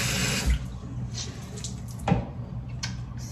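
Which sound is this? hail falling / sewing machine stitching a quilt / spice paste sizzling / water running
water running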